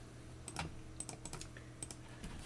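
Quiet computer keyboard typing of a command in a Linux terminal, a handful of soft scattered key clicks in short bursts over low background hum, fairly close.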